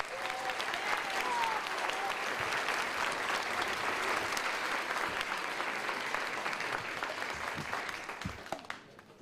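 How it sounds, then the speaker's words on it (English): Steady crowd applause at a nursing commencement honoring academic laureates, a continuous bed of many hands clapping that thins out and fades near the end. "Let's give a round of applause to all of our academic laureates."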